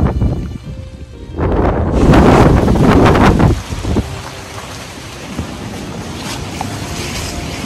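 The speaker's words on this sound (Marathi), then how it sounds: "इथे आम्ही गस्टी विंड अनुभवतोय." Strong gusty wind buffets the microphone on the Nakhind Ridge trek, a loud rushing roar surging around the middle before easing into a steadier, softer blow.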